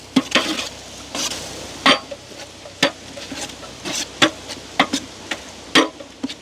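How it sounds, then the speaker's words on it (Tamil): Chopped tomatoes sauté in a pan for biryani under a low sizzle, punctuated by sharp, regular scraping and clinking strokes of a spoon against the pan, close by, with no speech. "அப்படியே நல்ல வடிவாக வதங்கட்டுக்கு தக்காளியே."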